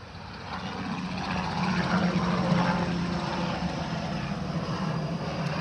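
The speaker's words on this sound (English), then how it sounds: "Found a plane." A propeller airplane drones steadily overhead outdoors, a continuous low engine hum with broadband rushing noise that swells slightly mid-passage and holds fairly loud throughout, with no voices.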